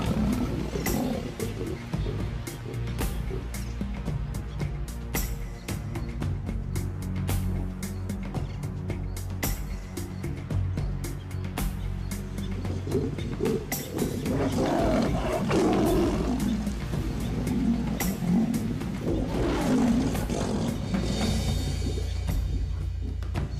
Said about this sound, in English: There are too many lions around.